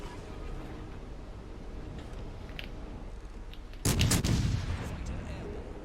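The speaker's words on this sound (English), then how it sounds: "Massachusetts still firing on me." A battleship gunfire salvo booms in a World of Warships Legends naval battle. A loud, sharp blast cuts in partway through over ongoing low battle rumble, then trails off into a rolling echo.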